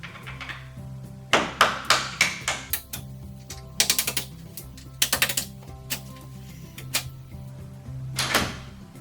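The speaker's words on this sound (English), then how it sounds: "take a small screwdriver and a hammer and knock out" A hammer tapping a small screwdriver to knock the pins out of door hinges: clusters of sharp metallic taps and clinks in quick bursts, close and moderately loud over a low background hum, with no talking.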